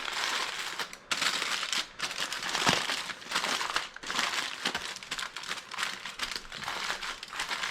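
Aluminum foil crinkling and crumpling continuously as it is folded and wrapped around St. Louis style pork ribs, a close, busy rustle with brief pauses and no talk.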